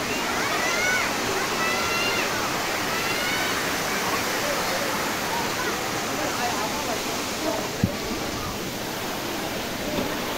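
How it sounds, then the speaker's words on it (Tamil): Steady broadband rush of falling water from a waterfall in Yercaud fills the whole stretch, constant and close, with faint voices and a brief thump partway through. "இது ஏற்காட்டில் ஒரு ஃபால்ஸு"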